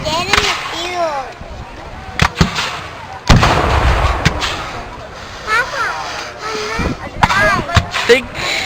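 Cannons fire at a Civil War reenactment, with a booming blast standing out amid steady crowd noise and outdoor chatter, plus a few sharper cracks.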